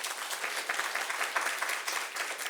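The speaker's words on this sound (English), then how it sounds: "Give them another round of applause." Audience clapping at a press briefing, a brief burst of steady, moderately loud applause from a modest crowd, heard alone without talk.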